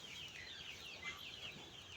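Rooster and hens on a farm in a steady run of clucking and fowl calls, fairly close and continuous, with no crow standing out clearly.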